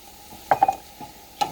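Flour is tossed into melted butter and cooked garlic in a pan, giving a few short scraping stirs and clicks of a utensil over a faint steady sizzle.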